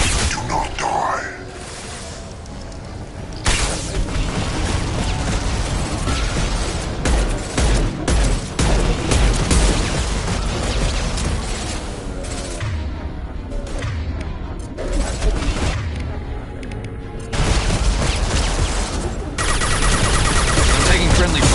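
Rapid, dense gunfire from the Mass Effect video game rattles on in heavy overlapping bursts for about twenty seconds, loud and close, with brief lulls and in-game voices underneath.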